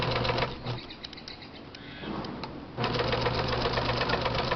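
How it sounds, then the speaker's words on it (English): Sewing machine back stitching and then sewing a plastic luggage tag: rapid close mechanical needle chatter, pausing briefly mid-way before resuming at a steady pace. "And I'm going to back stitch, and then I'm going to sew it."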